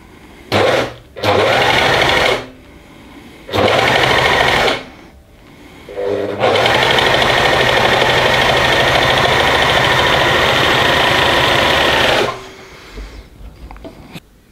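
Overlock sewing machine sewing and trimming stacked fabric pieces for a face mask runs in loud bursts: three short runs, then one long steady whir lasting about six seconds, with quiet gaps between.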